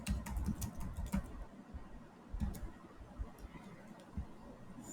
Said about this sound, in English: So first I'm going to type